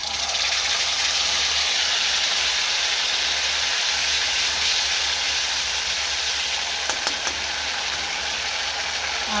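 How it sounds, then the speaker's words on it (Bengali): Ground spice paste, stone-ground on a sil, hits hot oil and sizzles in a steady loud hiss for Bengali fish-roe jhal paturi, with a faint clatter near the end. "এবার আমি দিয়ে দেব শিলে যেই মশলাটা বেটে রেখেছিলাম সেই বাটা মশলাটা।"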